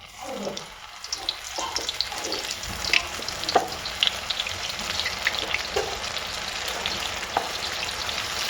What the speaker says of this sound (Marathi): या कडकडीत तेल तापलेल्या तेलात आपण या सोयाबीन आता सोडायचे आहे